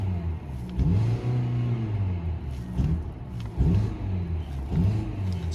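A 2018 Kia Optima LX engine revs up and down in several repeated throttle blips, each swelling into a deep, close, steady rumble before easing back to idle.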